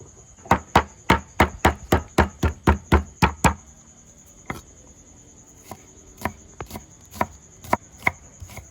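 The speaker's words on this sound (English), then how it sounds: "Chop garlic into pieces as small as possible." Knife chopping garlic into small pieces on a board: a fast, even run of about a dozen sharp chops, followed by a pause and then slower, scattered strikes, all close and with no talking.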